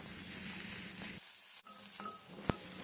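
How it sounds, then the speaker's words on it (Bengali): Chopped pointed gourd (patol) with salt and turmeric fries in hot oil, giving a loud, close, hissing sizzle that drops away briefly in the middle, then returns with a sharp crackle. "পটল হালকা লাল করে আমি ভেজে নিচ্ছি।"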